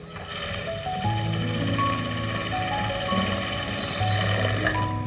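A sewing machine stitching a blouse sleeve, a steady mechanical whir running throughout with shifting tonal hums that rise and fall as the stitching continues, with no talking.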